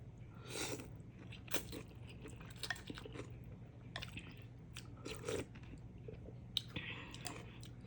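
Close, crunchy bites and chewing come in irregular bursts while someone eats Thai beef noodle soup with large meatballs, with light clicks against a steady low background hum and no talking.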